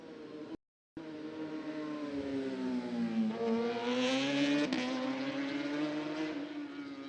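A racing motorcycle at about 190 mph into Lisboa bend during qualifying for the 54th Macau Motorcycle Grand Prix in 2022. A loud, sustained high-revving engine howl rises and shifts pitch, broken by one brief dropout.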